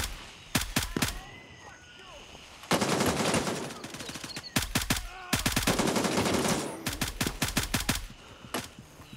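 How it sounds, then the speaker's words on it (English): Video game gunfire in Gray Zone Warfare: several rapid automatic bursts of shots, close and loud, with short pauses between volleys and two longer sustained stretches of fire, voices chatting faintly under it. "God damn, how many shots does that guy take?"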